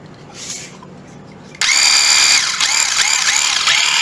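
A Makita 18V cordless hammer drill/screwdriver spins up abruptly after a short quiet stretch, then runs loudly and close with a steady whine, dipping briefly in speed a couple of times.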